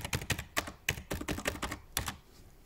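Computer keyboard keys tapped in quick irregular bursts during a cut-and-paste edit, close and crisp, with short pauses between clusters and no voices.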